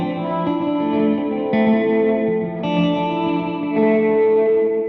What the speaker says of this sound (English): we're going to address the tremolo on the reverb signal